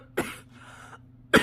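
A sick person gives two short, sharp coughs about a second apart, close and fairly loud, with a quieter breathy rasp between them.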